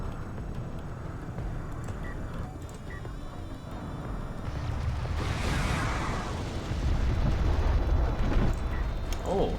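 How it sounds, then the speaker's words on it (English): Close-range missile barrage exploding in a competitive strategy video game, a dense rumbling burst that swells midway and keeps rolling as a loud, sustained blast wash. "Oh, pretty nice close-range missiles right there."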